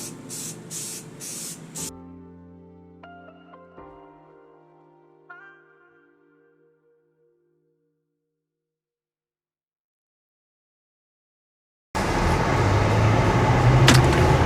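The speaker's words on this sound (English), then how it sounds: "The final step is a paint job, and for this I'm using Krylon semi-gloss." Krylon semi-gloss spray paint hisses from a can onto a replica AGM-12D missile in a backyard, in three short, close bursts, followed by musical tones and later a loud burst of outdoor noise.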